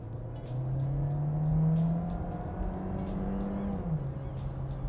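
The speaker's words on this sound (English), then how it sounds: "We're gonna get a little acceleration test." A 2024 Volkswagen Jetta SEL with a 1.5-liter turbo in sport mode accelerates, its engine drone rising in pitch, easing briefly, then climbing again as it holds steady under road and cabin noise from inside the car.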